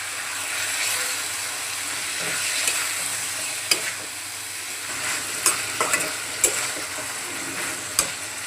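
Taro stolons and jackfruit seeds are sautéed with spices and salt in a pan, a steady close sizzle punctuated by scattered sharp spatula clicks and scrapes, with no one speaking.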